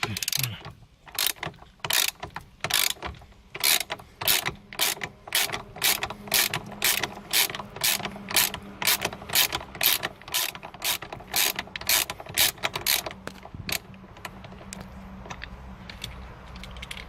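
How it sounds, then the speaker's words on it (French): A ratchet with a 13 mm socket loosening a bolt on a Jeep JK, giving a long series of sharp, evenly spaced clicks close up, speeding into quicker ratcheting and fading toward the end. "Douille de 13. Voilà, et là, on dévisse."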